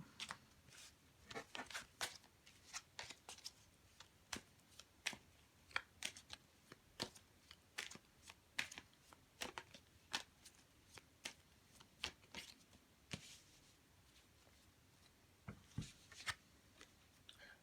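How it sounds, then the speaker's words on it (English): A deck of tarot cards being shuffled, with quick papery riffles and slaps coming in steady bursts. The sound is close and fairly quiet, with no one talking. "I'm going to pull some more cards and see"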